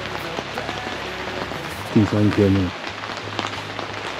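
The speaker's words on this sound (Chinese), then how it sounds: "正下着大雨。" Heavy rain drums on a tent at a cold, windy campsite in Tai'an, Miaoli, making a steady close patter throughout, with a voice speaking briefly partway through.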